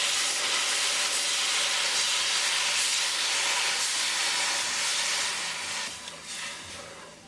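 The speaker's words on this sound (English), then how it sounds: "we're going to cook the spices along with the syrup for 2 minutes" Whole spices simmer in sugar syrup for an instant lemon pickle, giving a steady, close bubbling hiss that runs unbroken and eases slightly near the end, with no voices.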